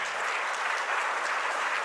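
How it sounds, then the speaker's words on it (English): Steady applause from a synagogue congregation at a temple gathering, a dense wash of clapping that holds at an even level throughout with no voices on top. "it's no longer the service, we can applaud, right?"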